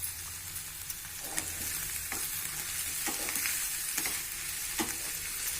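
A spoon stirs cooked horse gram into fried onions in a pan, giving a soft steady sizzle broken by repeated scraping knocks every second or so, close up with no voices.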